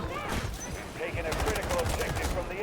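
Rapid bursts of gunfire in the shooter game Delta Force crackle close and loud, overlapping in quick volleys while people talk over the shooting.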